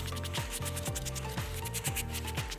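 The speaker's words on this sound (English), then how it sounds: "we'll start with brushing off any excess dirt" A brush rubs quickly back and forth over a suede sneaker held on a shoe tree, sweeping dirt off in a steady rhythmic scratching, close and alone with no speech.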